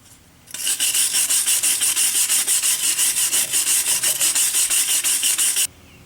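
A stiff brush scrubs dirt and rust off the strut mount of a 2005 Chrysler Town & Country. Rapid back-and-forth rasping strokes run continuously for about five seconds, close and loud, then stop.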